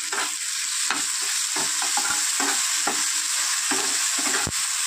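Ginger and garlic frying with potatoes and onions for a spicy fish curry, a loud, constant sizzle punctuated by repeated spatula strokes against the pan, close up.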